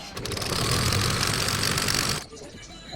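A Riccar portable 110V sewing machine, run after repair following a burnout from a 220V outlet, hums and clatters in a fast steady whir for about two seconds before stopping, then quiet talk.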